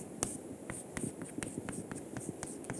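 Chalk or marker tapping and scratching against a board as chemistry symmetry operations are written out, a close run of sharp ticks and short scrapes in an uneven rhythm over a quiet room.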